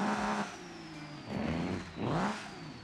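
A Fox Body Mustang engine in the BeamNG Drive driving game revs in three rising surges, loud and close, each swelling and then falling back.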